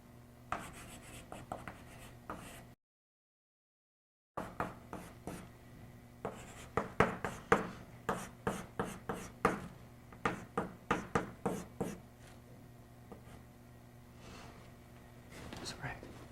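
Chalk or marker taps and scratches on a board during a lecture, mostly short close strokes clustering into a quick run in the middle, with faint room tone, a brief dropout and soft murmuring.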